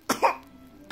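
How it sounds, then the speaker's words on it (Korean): A 281-day-old baby gives a couple of short, soft coughs close by, with a brief pause before a final small cough. "아이고 기침해."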